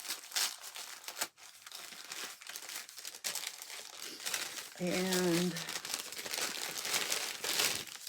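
A paper bag from a Christmas advent calendar is opened with loud, close crinkling and tearing rustles, continuing throughout while someone speaks briefly and hums a short sung note partway through.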